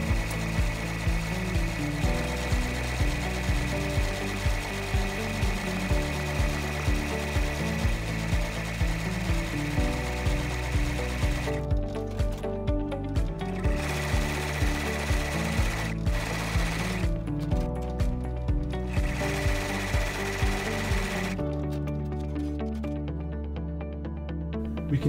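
Embroidery machine stitching lettering and a design onto a patch held in a hoop, a steady rapid mechanical chatter of needle strokes with a rhythmic pulse, loud and close throughout, without voices.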